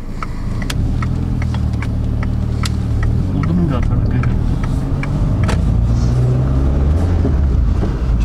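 A car engine runs with a steady low rumble as the drive gets underway, constant and fairly close throughout, with faint clicks and a voice speaking over it.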